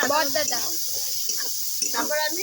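Chopped onion, tomato and split green chillies sizzle in hot oil in a pan, a steady bright hiss running throughout under a speaking voice.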